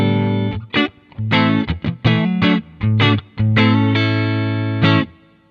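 An electric guitar played through a Boss Waza Craft Tube Amp Expand with no air feel: loud, clean-edged distorted chords struck in short bursts with brief gaps, some notes ringing out, alone without talk.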